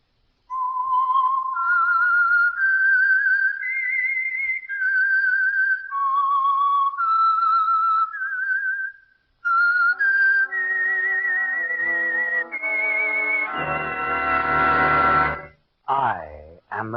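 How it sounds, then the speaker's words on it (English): Signature whistled theme of the Signal Oil radio drama The Whistler: a lone, clear melodic whistle rising and falling in sustained notes, then giving way to a swelling orchestral chord and a brief eerie flourish at the end. "the signal to listen for is this whistle that identifies the Signal Oil program"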